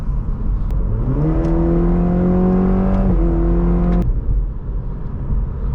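A 2020 Cadillac CT4-V AWD engine revs as the car accelerates, its tone climbing smoothly through the gear, briefly steadying, then rising again before cutting off. The engine is loud and heard from inside the cabin.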